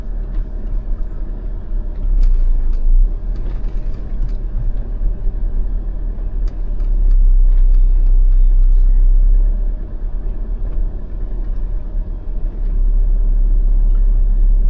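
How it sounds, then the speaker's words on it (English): A 2025 Jeep Meridian crawls through slush in four-wheel-drive low range, its engine giving a steady, close low rumble with swells in loudness and scattered crunching and splashing from the tires. "start the car in 4-wheel drive into the slush now"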